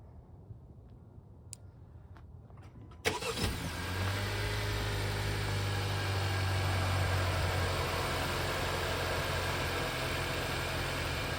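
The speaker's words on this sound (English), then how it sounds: "Do a somewhat a cold start." A Honda Civic engine cold-starts with a sudden crank and catch, then settles into a loud, steady idle hum that continues without a break, after a quiet stretch with a few faint clicks.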